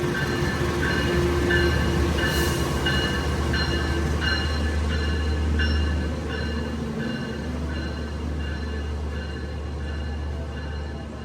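KA Anggrek passenger train in Indonesia running steadily at speed, a loud continuous rumble of wheels on rail with repeated rhythmic clacks over the track joints and a deep hum throughout.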